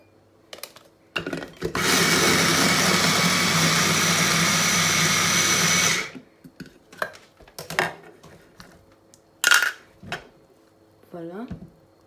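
A kitchen blender coarsely crushes okra in one loud, steady burst of about four seconds. Before and after it come scattered knocks and clinks of handling, with brief bits of voice.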